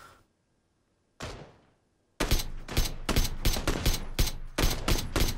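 Gunfire in the battle game PUBG: a lone shot, then a sustained string of loud, rapid automatic bursts in quick rhythm, punchy and close, with brief gaps between volleys.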